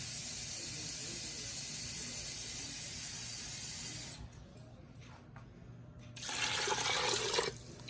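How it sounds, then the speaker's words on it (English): A steady rushing stream of water pours into an Instant Pot for several seconds, pauses briefly, then a louder splashing pour follows. "I'm going to add 3 cups of water."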